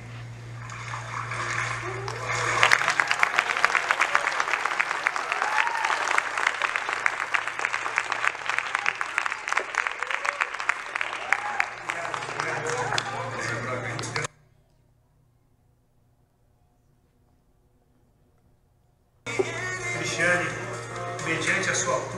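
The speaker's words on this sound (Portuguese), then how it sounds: "Quando alguém entrar na água, eu quero que vocês saúdem com bate-palmas, ok?" Church congregation clapping during a baptism at an Easter service, a long sustained burst of applause filling the room with a low hum beneath, then a sudden silence before clapping resumes.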